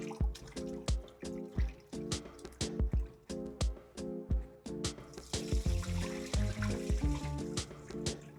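Water drains off chicken feet being washed with lemon or lime, heard as close, rhythmic splashing drips and pouring trickles that grow busier toward the end, with no talk.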